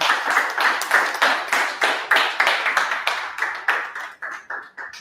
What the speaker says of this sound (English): a round of applause for Dr. Bassay